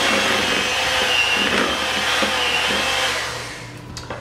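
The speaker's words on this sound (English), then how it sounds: "Now beat these two together just lightly until it all comes together." An electric mixer beats marshmallow into red velvet whoopie pie frosting with a steady, loud whirring drone that holds evenly and then eases off near the end.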